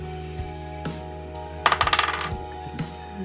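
Dice clatter and bounce across a tabletop during a Dungeons and Dragons session, a sharp cluster of rattling impacts that quickly trails off, with a few faint knocks before and after in an otherwise quiet room.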